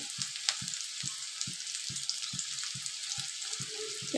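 Onion, potato and chili fry in a pan with a soft, steady sizzle, while a utensil taps and stirs in a regular rhythm of about two strokes per second. The sound is fairly quiet and close, with no talking.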